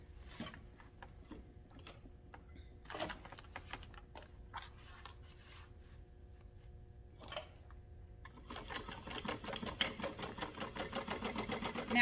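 A sewing machine runs up a tote bag seam at a half-inch allowance, starting after a few soft clicks and handling sounds, then building into a steady, close, fast-stitching whir for the last few seconds.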